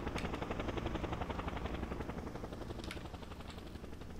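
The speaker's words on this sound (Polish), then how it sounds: "Śmigłowiec nadlatuje." Agency gyrocopter in the game Just Cause approaching, a steady loud rotor thrum with rapid chopping pulses held throughout, unbroken and without speech.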